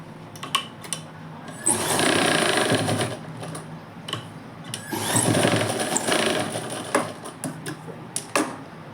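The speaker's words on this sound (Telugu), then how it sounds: "చేసుకొని మిడిల్ నుంచి ఒక కుట్టు వేసుకోవాలి." A sewing machine stitches fabric in two sustained runs of steady whirring, loud and close, separated by quieter clicks and handling sounds of the cloth.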